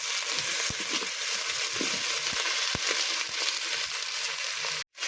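Small puti fish sizzling in oil with onion, black cumin and green chili in a clay pot, a loud steady close-up crackle with occasional soft stirring knocks and a brief break near the end.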